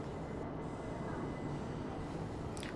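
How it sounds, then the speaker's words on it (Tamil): A train pulling in at Palakkad railway station in Kerala, a steady loud low rumble of rolling wagons holding throughout, with a brief high squeal near the end. "ஒரு வழியாக ட்ரெயின் வந்துருச்சு."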